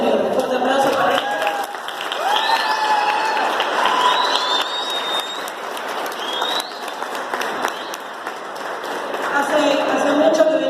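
Sustained audience applause with some cheering fills a school hall after a Paraguayan folk dance performance by students, loud and continuous with voices heard through the clapping.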